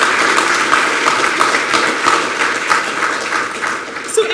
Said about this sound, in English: We can clap now. I think that's worthy of it.